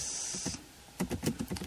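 Fingers typing on a computer keyboard during Java coding: a quick close run of crisp key clicks in uneven rhythm, heard alone after a brief high electronic whine fades out.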